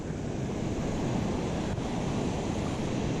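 Continuous roar of moderate ocean surf on the Oregon coast, a dense broadband wash of breaking waves heard close and steady, with no talk over it.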